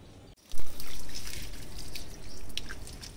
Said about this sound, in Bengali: গাছে জল দিচ্ছে দেখো